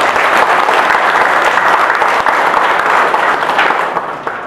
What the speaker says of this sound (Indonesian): semuanya, kita tepuk tangan.